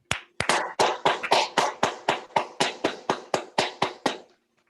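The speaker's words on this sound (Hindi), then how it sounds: "तो मैं चाहता हूँ एक जोरदार तालियों से सर का अभिवादन किया जाए।" About fifteen sharp hand claps ring out alone in a steady, evenly spaced rhythm, loud and close, greeting a presenter at a Safe Shop seminar before stopping abruptly.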